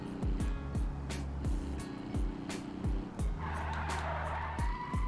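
A Covet race car in a video game drives hard, its engine buzzing and revving with repeated sharp gear changes, while tires squeal in a sustained skid near the end.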